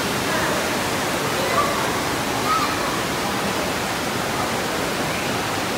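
Loud, constant roar of rushing water and crowd noise echoing in a large indoor water park in Russia, a dense wash of sound with no clear voices standing out.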